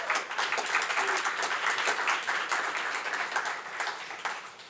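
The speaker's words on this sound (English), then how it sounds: "Please bring her up with some applause" An audience at a panel on AI, music and ethics applauds to welcome a speaker, a sustained round of many hands clapping that holds strong and then begins to thin out at the very end.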